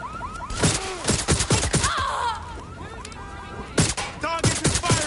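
Gunfire breaks out in Watch Dogs Legion as a series of sharp shots in separate bursts, with short gaps between them and a few grunts and other noises mixed in.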